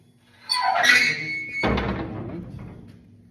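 A hinged metal door on a small smoker clunks shut with a squeaky metallic creak and a solid thunk, followed by a short ringing decay, close and loud with no talking.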